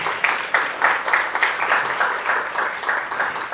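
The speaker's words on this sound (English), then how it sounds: "I think that they deserve an applause again" An audience at a conference gives a round of applause, dense clapping with a slightly pulsing rhythm, moderately loud and continuous throughout.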